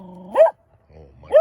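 A dog gives two sharp, loud barks about a second apart, with a soft whine or low vocal sound between them, close to the listener.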